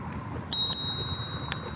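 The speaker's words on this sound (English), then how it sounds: "definitely the bell" The handlebar bell on an EMOVE Touring electric scooter rings out in two quick bright dings, then one more ding a moment later, close and clear with a ringing tail and no talk.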